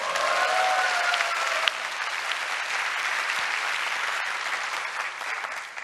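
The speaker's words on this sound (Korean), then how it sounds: "박수 치셔도 됩니다." A lecture audience breaks into steady, moderately loud applause that carries on for several seconds, dense and even before easing off at the end.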